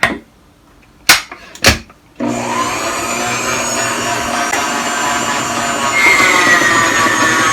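GeekChef 2.6 qt stand mixer kneading Hawaiian roll dough, starting after a couple of sharp knocks and then whirring in a steady loud motor drone that rises slightly in pitch toward the end, with no voices.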